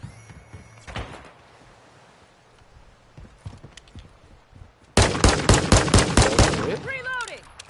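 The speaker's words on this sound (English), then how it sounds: "These guns are bangers, though, dude, in terms of, like, kick and firing and, like the weight." Gunfire in Call of Duty: Modern Warfare 2, with a few scattered single shots early on and then a loud, rapid burst of automatic fire close by near the end.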